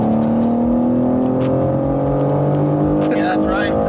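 A BMW G87 M2 pulls hard from about 50 mph in sixth gear, its engine note droning loud and steady as the pitch climbs gradually throughout.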